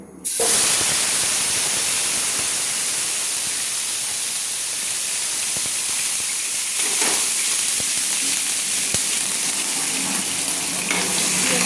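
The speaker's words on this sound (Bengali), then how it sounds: "সেইগুলো আমি কষানোর জন্য তেলের মধ্যে দিয়ে দিলাম।" Large cubed papaya pieces hit hot oil with a sudden loud hiss, then fry in a continuous, dense sizzle with scattered pops and crackles.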